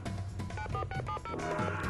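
A rapid run of telephone dialing tones, distinct beeps in quick succession, as the first call comes in to a television game show studio.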